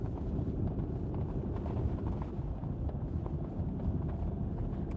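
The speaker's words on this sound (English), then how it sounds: "Super windy." A strong, steady wind blows over a muddy lake bed after rain, buffeting the microphone with a continuous low rumble and roar for the whole stretch, with no voices.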